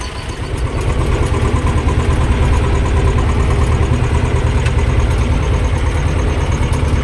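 A T-25 tractor engine running steadily while pulling an Agrozet potato planter, a loud, close, continuous diesel chugging that holds an even rhythm throughout, with no talk.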